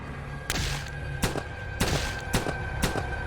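Gunfire in the video game Rabbit Hole: five sharp shots or short bursts spaced roughly half a second to a second apart, each a crisp crack with a brief tail, over a steady low hum.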